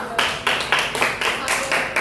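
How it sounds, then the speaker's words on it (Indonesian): An audience clapping in a steady, even rhythm of sharp claps, about four per second, close and fairly loud. A voice can be heard faintly behind the claps. "Tepuk tangan lah."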